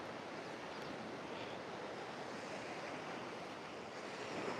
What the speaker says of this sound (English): You see that one over there when the waves came up?